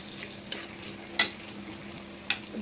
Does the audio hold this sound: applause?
no